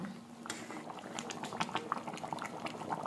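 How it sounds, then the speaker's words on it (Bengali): Pot of potato curry (aloo dum) at a rolling boil on a home stove, giving a steady close bubbling and popping that runs throughout with no pauses. "দেখো জাস্ট আলুর দম পুরো ফুটছে।"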